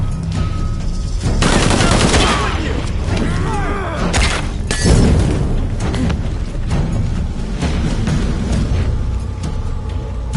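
Sustained bursts of gunfire in the video game Shadow of the Tomb Raider, with loud rapid volleys, sharp impacts and shattering, loudest in the opening seconds and again near the middle, then continuing more faintly to the end.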